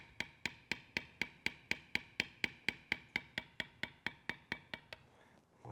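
Steady rapid mallet taps on a leather beveling tool, about twenty sharp even strikes close up while beveling cut lines on a leather trading card project, with no speech.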